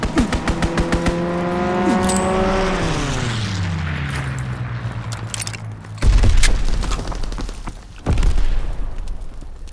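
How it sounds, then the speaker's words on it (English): During a Call of Duty WW2 strafing run airstrike, an aircraft roars overhead with a falling pitch as it passes. Heavy booming impacts and explosions follow, loud and close, without any talking. "Strafing run inbound."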